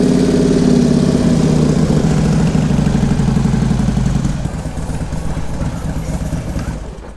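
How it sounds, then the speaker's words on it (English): A Harley-Davidson motorcycle engine idles in neutral to warm up, a loud, close, continuous rumbling throb that eases slightly in the last few seconds. "Start your bike. Make sure it's in neutral."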